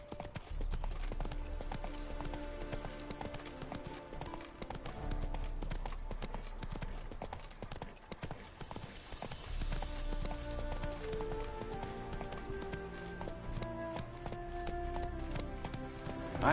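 Horse hooves clip-clop steadily in The Witcher 3 on PS4 as the mount trots along, a close, continuous rhythmic clatter mixed with game music and ambient sound.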